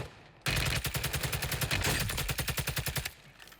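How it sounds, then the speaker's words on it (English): Rapid automatic gunfire in the Warzone video game comes as one long loud burst of evenly spaced shots. It slows into distinct pops before stopping. "It sounded like he was getting shot at as well"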